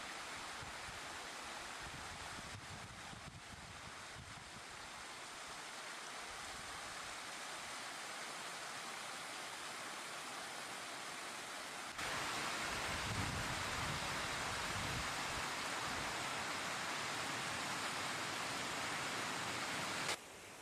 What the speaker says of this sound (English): At the entrance to the Dales Gorge, the Fortescue Falls are gushing down over the rock steps.